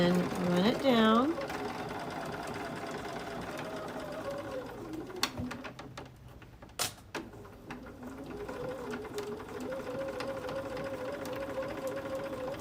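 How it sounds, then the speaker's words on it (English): Sewing machine stitching along a fabric edge with a quarter-inch foot while making a placemat tote bag, a steady close mechanical whir with a brief back stitch, pausing and restarting over the span. "I'm going to run it right at the edge, and I'll do a little back stitch"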